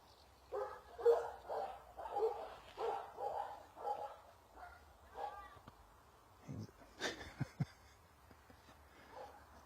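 Dogs bark in a rapid series of yips and barks, mid-distance, then a few sharper isolated barks, with voices talking over them throughout.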